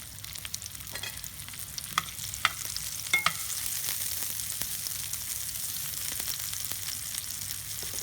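Chopped onion frying in olive oil in a pan, a steady close sizzle broken by a few sharp scraping stirs.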